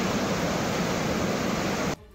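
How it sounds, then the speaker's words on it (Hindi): Floodwater rushing down a road after a cloudburst in Baramula, Jammu and Kashmir: a loud, continuous broadband roar that cuts off abruptly near the end. "पानी की आवाज सुनकर ही सिरहन पैदा हो रही थी"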